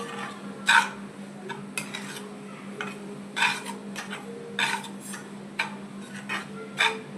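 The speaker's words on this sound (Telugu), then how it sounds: "2 కప్స్ కొబ్బరి వేసేసుకొని నేను మంచిగా మిక్స్ చేయాలి. బెల్లం కొబ్బరి మొత్తం కలిసేలాగా మిక్స్ చేయాలన్నమాట." A utensil stirring grated coconut and jaggery in a pan, giving irregular scraping and clinking strokes over a steady low hum, moderately close and with no talking.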